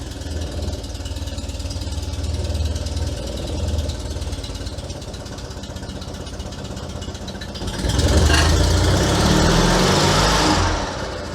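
An Invacar engine, started on full choke, idles with a steady, rough, buzzing drone that grows noticeably louder and harsher for the last few seconds before easing slightly.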